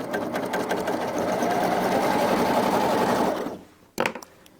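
A Baby Lock Applaud sewing machine stitching at a steady fast pace, close and loud, then stopping, followed by a couple of brief mechanical clicks.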